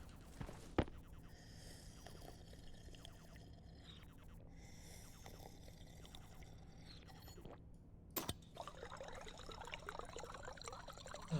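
Water pours in the Stationeers video game, a soft trickling and splashing that comes and goes in quiet, close bursts over a low background hum.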